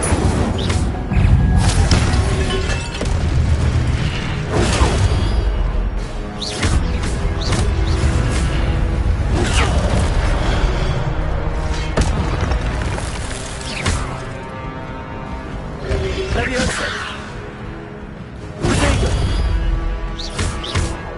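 Repeated Incendio fire spells are cast in Hogwarts Legacy on PS5, landing as a steady string of loud thuds, crashes and whooshing bursts over about twenty seconds. Battle noise fills the spaces between casts, and a voice is heard at times.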